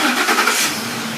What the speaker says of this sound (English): and the engine cranks